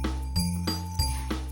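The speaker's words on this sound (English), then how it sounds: "That's the sound of bells jingling." Jingle bells shaken in three quick rhythmic bursts give bright, ringing jingles over a steady tonal background, close and moderately loud, with no talking.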